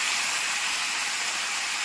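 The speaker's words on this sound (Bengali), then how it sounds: "পেঁয়াজ পাঁচফোড়ন অল্প একটু ভেজে নেওয়ার পর তার উপরে দিয়ে দিলাম আলু আর বেগুন" Potato and eggplant pieces sizzling in a pan over lightly fried onion and panch phoron, a steady loud hiss without pause.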